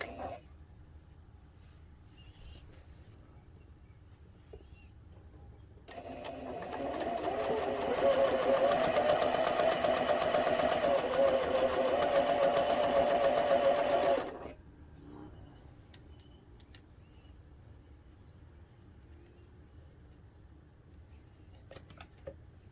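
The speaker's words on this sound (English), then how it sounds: "So for this, I am just sewing nice and easy." A sewing machine chain piecing fabric runs steadily for about eight seconds, a continuous close whirring stitch that starts and stops abruptly, with quiet room tone before and after.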